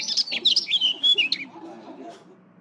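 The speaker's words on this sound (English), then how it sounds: "I'm turning into a bird." Bright, quick bird chirps and tweets in a short rapid burst, fairly close and clear, fading into softer lower calls at the end with nothing else around them.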